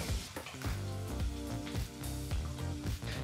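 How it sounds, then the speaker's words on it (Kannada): Onions and green chillies fry in a pan over a medium flame, giving a steady, close, dense sizzle that runs throughout with soft stirring scrapes and no talk. "ಸರಿಸುಮಾರು 3 ನಿಮಿಷಗಳ ಕಾಲ ಈರುಳ್ಳಿ ಹಾಗೆ ಹಸಿಮೆಣಸಿನ್ಕಾಯಿನ ಫ್ರೈ ಮಾಡ್ಕೋಬೇಕಾಗತ್ತೆ, ಅದು ಮೀಡಿಯಂ ಫ್ಲೇಮ್ನಲ್ಲಿ"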